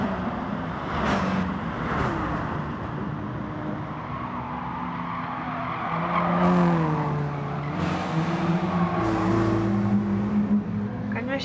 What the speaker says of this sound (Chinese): 轮胎就滑得特别大